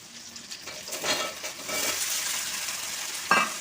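Brinjal (eggplant) sautéing in oil makes a soft, uneven sizzle with light stirring swells and a brief clink near the end, fairly quiet and with no talking.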